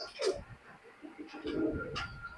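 Pakistani high flying pigeons coo in short, throaty bursts, several soft calls spaced across a couple of seconds, close by with faint human voices in the background.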